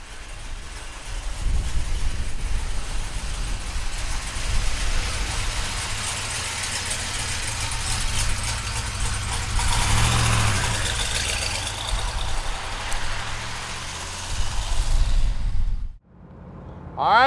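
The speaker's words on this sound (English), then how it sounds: "All right, let's take our big block Chevelle convertible for a ride." A 1970 Chevrolet Chevelle convertible with a big block engine and four-speed idles, a loud steady low rumble with slight swells that runs throughout before cutting off abruptly near the end.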